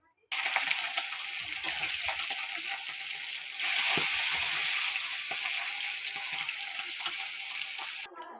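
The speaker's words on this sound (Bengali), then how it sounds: "আমার মাছগুলো সব ভাজা হয়ে গিয়েছে।" Small tengra and singhi fish, rubbed with turmeric and salt, fry in a hot wok with a loud continuous sizzle that starts abruptly and surges midway.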